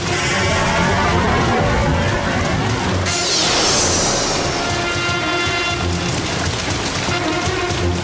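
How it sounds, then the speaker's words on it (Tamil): Sudden heavy rain pours down in a dramatized scene, a loud dense hiss of drops on surfaces with a low thunderous rumble underneath, steady and close throughout the whole stretch. "என்ன மூசா திடீர்னு மழை பெய்யுது?"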